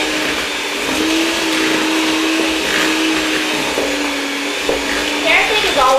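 Thick carrot cake batter with crushed pineapple is mixed under a loud, steady motor drone. A faint tonal hum holds through the mixing, with small knocks and scrapes near the end.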